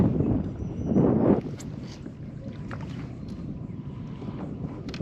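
Wind gusts buffet the microphone on a saltwater kayak off Florida, a strong rush in the first second and a half easing into a steady low blustery noise with faint water sounds.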